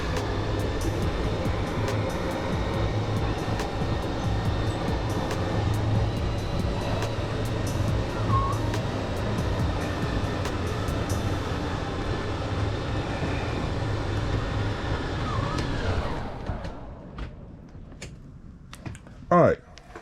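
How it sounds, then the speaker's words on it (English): Slide-out room on a 2014 Thor A.C.E 29.2 motorhome retracting, a steady mechanical motor drone with a faint whine that runs at an even level before stopping, followed by a few clunks and a brief bump. "This right here, just simply retract. And you'll see this whole slide coming in."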